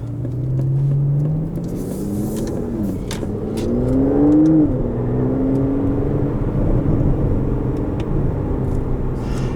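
A 2020 Aston Martin DB11 AMR in Sport Plus mode with paddle shifting accelerates, its engine giving a deep, steady rumbling drone that rises in pitch, dips briefly at a shift, then keeps pulling loudly from inside the car.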